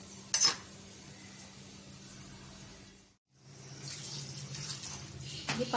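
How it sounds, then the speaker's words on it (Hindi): Water poured into a pot of beef cooking in oil, a soft splashing pour after a brief clatter, then a short pause and a renewed gushing hiss with faint pot sounds, close and low in level. "अभी इसमें पानी डालेंगे।"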